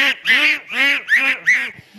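A stage performer's voice imitates ducks quacking, giving four loud nasal quacks in a quick, even rhythm, close and clear with no other sound around them.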